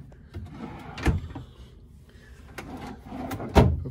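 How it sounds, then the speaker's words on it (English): Dresser drawers in a Caesars Palace hotel room slide and thump shut, two distinct knocks with rubbing and sliding between, close and moderately loud. "Then we have our individual drawers."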